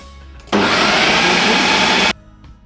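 A kitchen blender whirs loudly and steadily for about a second and a half while blending mbika (pumpkin seed) sauce, starting and stopping abruptly, with quiet room sound before and after.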